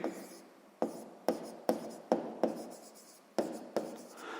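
A pen writes numbers on paper for a sixth-grade maths exercise, giving quiet close scratching strokes, each starting with a sharp tap, about eight in a row at an uneven pace.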